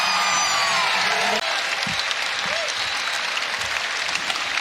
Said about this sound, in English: This crowd starting to make some noise here at Maples Pavilion.